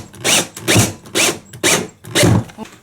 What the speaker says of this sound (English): I'm going to drill this into place.